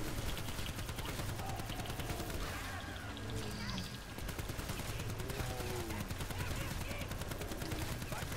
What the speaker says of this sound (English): I'm shooting him right in the chest